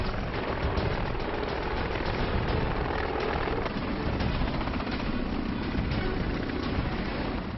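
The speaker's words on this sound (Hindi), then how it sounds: "इंडियन कोस्ट गार्ड का सिपह सालार एडवांस लाइट हेलीकॉप्टर MK3" An Indian Coast Guard Advanced Light Helicopter MK3 in flight gives a steady, loud rotor and engine roar that fills the whole stretch without letup. There is no talk over it.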